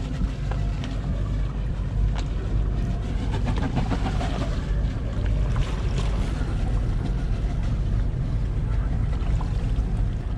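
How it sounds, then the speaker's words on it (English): Yacht motoring forward on its port engine, a continuous low diesel rumble with water swishing and wash against the hull, steady and fairly close throughout. "Okay, so Laura, just go forward on the port engine."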